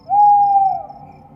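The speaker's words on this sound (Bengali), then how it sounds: "কি একটা বিশাল গাছের মাথায় বসে থাকা পেঁচার সুতীঘ্ন ডাকে চমকে উঠলেন" A single owl hoot rings out from atop a large tree in the dark, as a horror-story sound effect: one loud, sustained tonal call that slowly fades.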